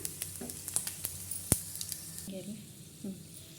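Green chillies frying in ghee for poha give a soft, steady sizzle with scattered light clicks and scrapes from stirring, fairly quiet and close.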